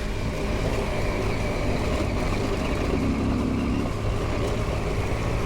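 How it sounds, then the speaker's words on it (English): A 300L dirt motorcycle ridden flat out up a rocky hill, its engine droning loudly and steadily at high revs throughout, with no pauses or talk. "This is what a 300L flat out up a rocky hill looks like."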